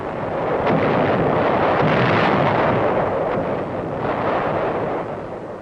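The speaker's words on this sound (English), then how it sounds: "The sound of shells going over can be a mighty friendly sound." Dense, rumbling artillery fire rolls on continuously, a heavy wash of booms and low roar with no clear gaps, loud and distant-sounding.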